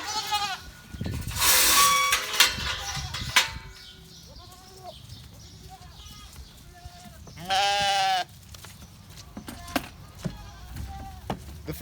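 Sheep bleat at feeding time on a farm in several loud, wavering calls scattered across the scene, some overlapping, with quieter rustling and shuffling between them.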